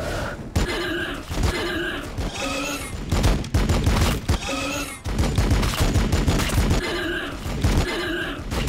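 Gunfire in the Warhammer 40,000: Battlesector strategy game: dense, loud bursts of shots and impacts that repeat in waves throughout, with sharp cracks over a rumbling battle din.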